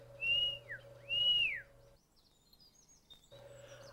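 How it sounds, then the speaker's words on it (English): Two clear, loud whistled notes from a person calling a goshawk, each sliding up then falling, followed by faint high chirps and a low background hum. "Whistling will help to stimulate your hawk, and he will always know when you're around."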